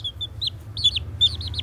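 Chicken giving short clucking and chirping calls in small bursts, fairly faint over a low background hum.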